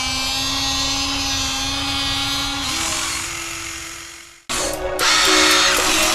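A HUINA 1593 radio-controlled excavator digging in heavy sand, its small electric motors whining steadily and close, shifting pitch midway, then cutting out briefly before surging again louder.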